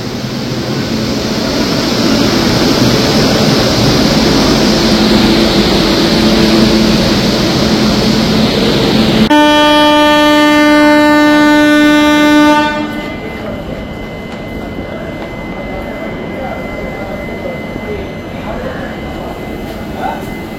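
The 13187 Maa Tara Express from Sealdah to Rampurhat, hauled by a WAG9HC locomotive, rumbles loudly and steadily, then a long horn blast sounds, after which the rolling noise drops to a softer, steady hum.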